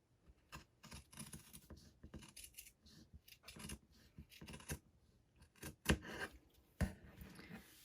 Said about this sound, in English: So I am going to trim this corner here.